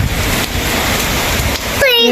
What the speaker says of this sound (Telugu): గాలి వాన మామూలుగా రావటం లేదు